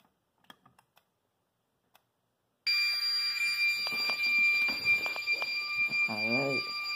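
Simplex fire alarm system under test: a few soft clicks and taps, then a loud continuous electronic alarm tone starts abruptly and sounds steadily, with a voice speaking over it near the end.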